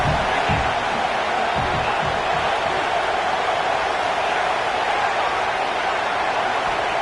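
A stadium crowd at a Buckeyes football game roaring in a loud, continuous wash of cheering with no breaks.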